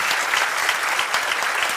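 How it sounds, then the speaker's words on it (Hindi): Dense, loud applause from a crowd, many hands clapping steadily throughout with no talking. "जोरदार ताली बजाओ।"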